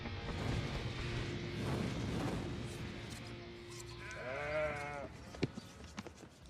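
A sheep bleats once, a wavering, quavering call near the end, after a stretch of low outdoor rumble and faint background noise, followed by a couple of soft knocks.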